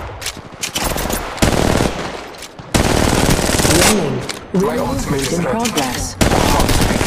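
Rapid bursts of automatic gunfire from an Apex Legends Mobile battle, loud and close, with dense rattling volleys and a game voice announcing actions over the shooting.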